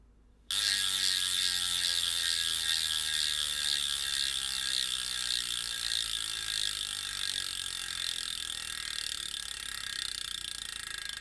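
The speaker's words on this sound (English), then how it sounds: "Ratchet sound will have changed from the 18 tooth to the 36 tooth ratchet rings." A DT Swiss 350 bicycle hub freewheel, fitted with 18-tooth and 36-tooth ratchet rings, spins with a rapid, continuous buzzing tick that starts abruptly and slowly winds down in pitch as the wheel coasts, close up with no voices.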